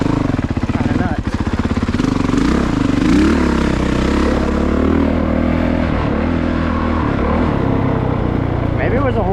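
An off-road vehicle grinds through muddy ruts, its engine droning loud and close without a break while the chassis clatters and bumps over the rough ground.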